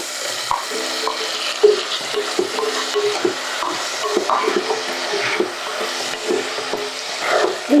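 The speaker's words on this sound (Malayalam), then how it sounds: "നമ്മുടെ ചെറിയ ഉള്ളിയും തക്കാളിയും നന്നായി വഴറ്റിയിട്ടുണ്ട്" Small onions, curry leaves and tomatoes sauté in a pan for a fish masala, with a light sizzle under repeated scraping and clinking of a spoon stirring against the pan.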